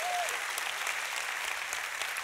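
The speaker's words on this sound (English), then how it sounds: "can you just applaud Jesus?" A church congregation claps together during a worship service, making sustained, even applause heard from a moderate distance at a fairly soft level.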